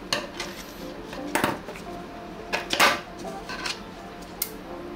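Scissors snipping open a snake egg close to the near-hatching embryo inside: a few sharp clicks and cuts, spaced apart, over quiet background noise.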